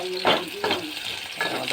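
Crab fries in a little oil with a continuous sizzle, broken by several loud stirring scrapes and clinks of a utensil against the pan.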